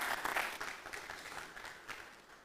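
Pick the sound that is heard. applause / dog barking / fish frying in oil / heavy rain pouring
applause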